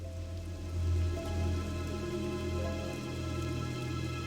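Steady rain ambience fills a forest zone in World of Warcraft Classic, a dense, continuous patter of drops on surfaces with a low background drone, evenly loud and uninterrupted with no voices.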